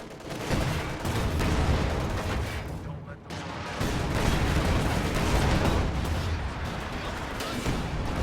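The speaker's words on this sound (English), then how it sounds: "Heavy mortar continues to bombard infantry formations in the center." Heavy mortar bombardment in a World War II strategy video game: a dense, continuous roar of distant explosions and rumbling impacts with scattered gunfire, loud and sustained throughout, with a brief lull near the middle.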